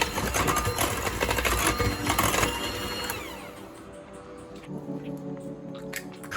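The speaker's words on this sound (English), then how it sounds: "And then you mix it up." Chocolate cookie batter for Amish-style whoopie pies is mixed in a bowl with its sugar: a fast, rattling whir churns loudly for about three seconds, then settles into a quieter, lower hum.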